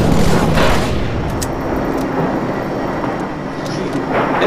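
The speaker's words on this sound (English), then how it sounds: "Rocket launcher." Rocket launcher blasts in the Halo video game, a loud booming shot opening onto rumbling blast noise and scattered sharp cracks, with no one talking.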